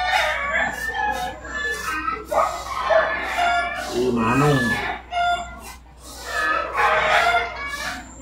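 A rooster crows loudly and close by among clucking chickens from a poultry harvest, with someone talking over and between the calls.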